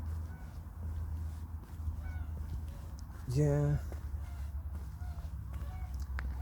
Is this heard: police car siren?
no